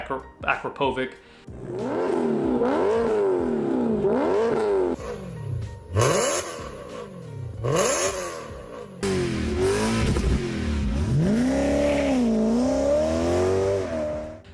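BMW E9x M3 with an aftermarket valved exhaust revving repeatedly, loud rising and falling engine sweeps that fill the clip, with brief blips in between.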